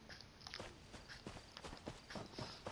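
Horse hooves clip-clopping in the video game Elder Scrolls Online, a steady walking rhythm of repeated hoof strikes, fairly close and clear over faint background ambience.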